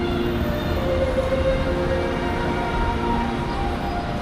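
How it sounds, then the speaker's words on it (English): Continuous low rumble and rattle of a tram in Taipei heading to Xinbeitou, rolling along its rails, steady and fairly loud throughout. "let's catch this tram up to Xinbeitou"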